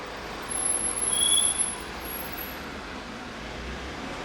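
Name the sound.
car passing outside a garage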